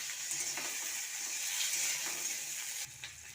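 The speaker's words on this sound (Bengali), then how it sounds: "এই যে টমেটো আর কাঁচা লঙ্কাটা ভেজে নেবো একটু" Chopped tomato and green chilli frying in hot oil in a wok, giving a soft, steady sizzling hiss with faint stirring clicks, quiet and without talk.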